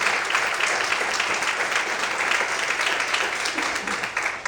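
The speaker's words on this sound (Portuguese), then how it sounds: "Mais aplausos para Deus." A crowd at a church worship service applauds continuously, thick clapping holding steady and then tapering slightly toward the end.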